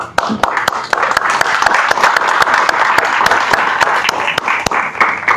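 A church audience breaks into applause, a dense, loud, sustained patter of many hands with sharp individual claps standing out near the microphone.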